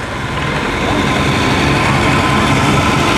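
A Cleveland tractor, a General model with what looks like a 4-cylinder engine, runs at a vintage festival, a loud, steady, close engine rumble that continues without a break.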